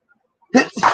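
A single sharp human sneeze bursts out close and loud after a brief hush, its two-part explosive rush of breath clearly audible in a quiet room.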